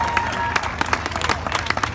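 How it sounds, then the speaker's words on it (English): Concert crowd at a small loft venue clapping and cheering, a close, uneven patter of hand claps with scattered individual claps standing out over a busy room. "Give yourselves a round of applause straight up."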